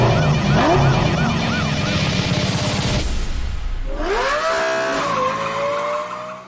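Audi R8 in a Forza Motorsport trailer, a loud screaming race-car engine with tires squealing and skidding, revving up and down, then dropping to a brief lull before a high sustained engine wail climbs back in and fades at the end.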